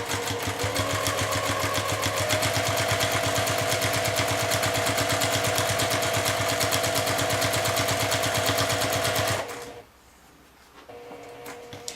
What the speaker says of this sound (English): So now I'm going to sew the two flap pieces together. I'm going to start by backstitching a little bit.